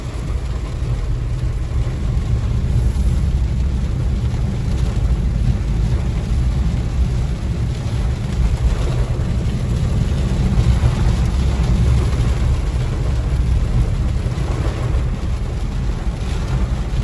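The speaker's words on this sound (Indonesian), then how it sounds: "Sekarang ini hujan ya." Rain drums steadily on the roof of a Wuling Air EV, heard from inside the sound-deadened cabin as a constant dense hiss over a low rumble, with no talking.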